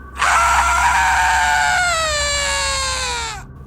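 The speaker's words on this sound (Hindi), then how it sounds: "एक जोर की चीख सुनाई देती है" A loud, sustained scream from a horror story's sound effects lasts about three seconds, shrill at first and then sliding lower before cutting off abruptly, heard alone.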